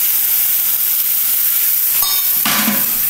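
Water poured into a hot pan of cooking daliya sets off a sudden loud sizzling hiss partway through, after a quiet stretch of low kitchen background and a brief metallic clink.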